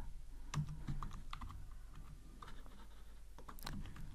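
Quiet typing on a computer keyboard, with scattered soft key clicks and a few louder taps coming in uneven bursts against a faint background hum.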